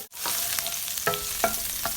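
Chopped garlic frying in hot oil in a pan for Thai stir-fried minced pork with holy basil, a steady bright sizzle broken by a few sharp scraping stirs, close and loud with no voices.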